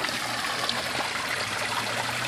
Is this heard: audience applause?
no